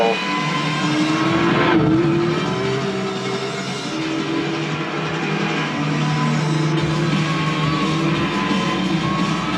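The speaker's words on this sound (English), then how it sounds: "it's got a turbo, so it's got, like everybody says, more of a vacuum cleaner sound" Turbocharged Honda NSX racing at Brands Hatch in Gran Turismo 6, a steady loud engine drone with a whooshing, vacuum-like turbo tone and a brief tire squeal, no talk.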